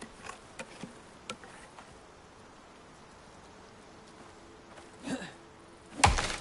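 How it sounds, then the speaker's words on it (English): Bees hum near a nest in the survival video game Icarus: a faint, steady insect drone with a few soft ticks and a louder burst near the end. "Is there a bee's nest somewhere here?"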